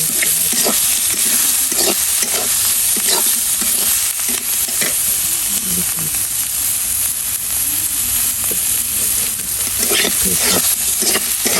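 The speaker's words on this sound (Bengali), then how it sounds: "কালো জিরা অল্প একটু গরম করে এর মধ্যে আমি তেল দিয়ে দেবো।" Black cumin seeds with oil sizzle and crackle in a hot wok, a continuous close frying hiss broken by repeated scraping stirs.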